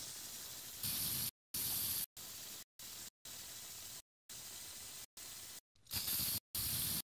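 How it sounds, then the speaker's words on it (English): Spray paint can hissing in repeated bursts as a radiator hanging on a hanger is coated for custom black paintwork, about eight short sprays separated by brief silences, close and steady. "You can flip the rad around on the hanger while still suspended to spray the other side of the rad for an even coat overall."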